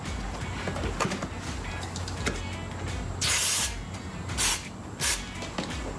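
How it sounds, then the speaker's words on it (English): Three short bursts of quick-dry electronic cleaner spray hiss out close by over quiet background noise, the second and third briefer than the first, during bulb replacement on a Porsche Boxster 986. "I'm gonna use some electronic cleaner, some quick dry electronic cleaner."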